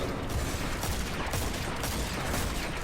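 Sustained, dense rapid fire from weapons in the video game Destiny 2, a continuous loud clatter with no clear gaps, heard without speech.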